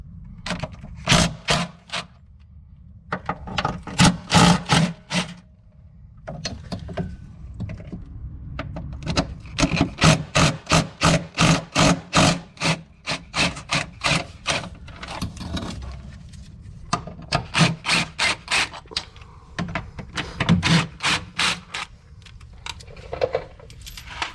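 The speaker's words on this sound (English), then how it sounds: "So now we are going to remove the 3 upper strut nut bolts. You're going to need a 7/16." Ratcheting 7/16 wrench loosening the three upper strut nuts on a Jeep Renegade during a 2-inch lift install, heard as long runs of rapid, sharp metallic clicks close up, broken by brief pauses.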